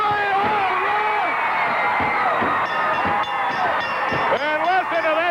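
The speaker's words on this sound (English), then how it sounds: "And listen to this crowd." A wrestling arena crowd cheering wildly after a tag-team match ends in a pinfall, a loud, dense roar of voices and whistles filling the whole stretch.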